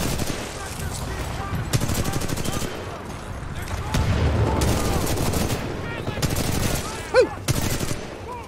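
Rapid automatic R-301 rifle fire in Titanfall 2 crackles in repeated bursts amid game effects, with a voice talking and whooping over the shooting.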